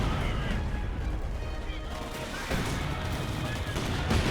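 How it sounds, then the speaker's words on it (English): Emplacement gun firing on a church in Company of Heroes 2, a dense, continuous battle din of gunfire and artillery with sharp shots under faint game noise throughout. "He's just firing away at the church."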